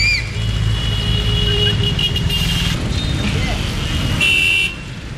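Car horns honk repeatedly over dense street traffic in Jaipur, with several sustained toots of different pitches, one long blast near the end, over a rumbling engine bed and some voices.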